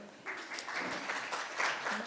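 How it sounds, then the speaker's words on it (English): A crowd at a BUIDL Asia conference talk claps steadily throughout, a warm round of applause heard from within the room. "I'd like to please just give a warm round of applause for Erica here for putting this together."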